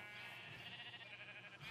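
A Minecraft sheep bleats softly in a wavering, nasal tone that lasts about two seconds, faint and alone.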